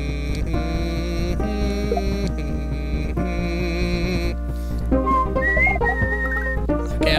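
A person whistles a melodic tune alone, with clear sustained notes and shifting pitch, close and steady throughout with no talking.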